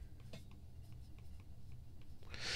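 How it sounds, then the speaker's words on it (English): An Apple Pencil writes on an iPad Air fitted with a Paperlike screen protector, giving faint, soft scratchy strokes and light taps in a quiet room. "it feels and sounds like paper when using an Apple Pencil"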